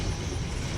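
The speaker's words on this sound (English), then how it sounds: "So this is a completely different train leaving" An intermodal freight train pulls out in Norfolk, Virginia, giving a brief, steady low rumble of rolling cars without voices.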